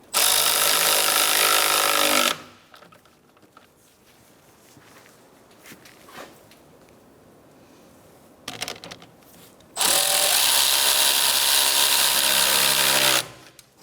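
Power tool tightening radiator bolts on a 2014-2019 Kia Soul 1.6L, two loud sustained whirring bursts at the start and end, with quiet clinks and handling sounds between them.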